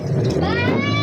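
A tourist motorboat sets off in the Pichavaram mangrove forest with a loud, close engine drone that rises in pitch as it picks up speed, while people talk over it.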